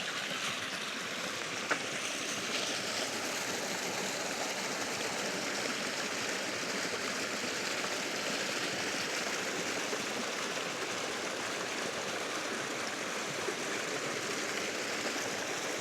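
Clear snowmelt stream running directly across a mountain hiking trail, a steady broadband rush and babble of flowing water holding an even level throughout, close by with no voices.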